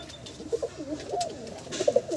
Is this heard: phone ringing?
no